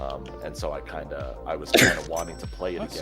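One short, sharp sneeze bursts out near the middle, loud and close, in the middle of steady speech from a person talking.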